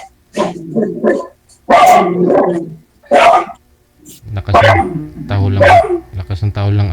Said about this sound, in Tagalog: Lakas ng tahol lang aso ah.